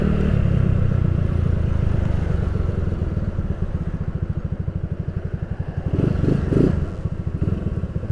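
A customized Yamaha Nouvo scooter engine runs steadily up close with a fast, pulsing exhaust beat, swelling briefly into a louder rev and clatter before settling back, with no talking.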